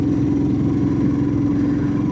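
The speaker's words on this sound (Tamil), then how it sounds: "நிறைய வண்டி வருது பார்த்தீங்களா" Traffic on a mountain road near Kodaikanal heard during a motorcycle ride: a steady, continuous engine drone and road rumble from passing vehicles, fairly loud and constant throughout, with no talk.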